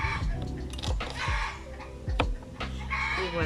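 A hen that has just laid an egg cackles loudly and repeatedly nearby. Sharp, irregular bursts of clucking come one after another with brief gaps.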